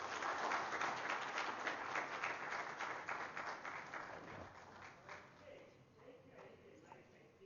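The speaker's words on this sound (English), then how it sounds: "Please let us welcome her with a round of applause." A conference audience at a TB and leprosy stakeholders' meeting claps together, a dense burst of applause that starts strong and gradually fades over several seconds.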